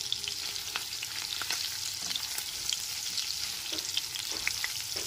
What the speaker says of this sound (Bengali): গ্যাসের ফ্লেমটা লোতে রেখে একদম হালকা করে পনিরগুলোকে ভেজে তুলে নেব